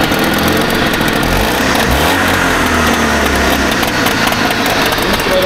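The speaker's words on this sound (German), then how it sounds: "Standgas." A Trabant 601 two-stroke engine idles steadily after repair work, a loud, constant buzzing rattle close to the microphone with a faint passing tonal sweep, and nobody speaking.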